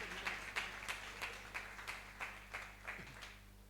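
Applause from an audience at a Christian seminar on grace, heard as a series of distinct, evenly spaced claps about three per second, faint and fairly distant in a quiet hall.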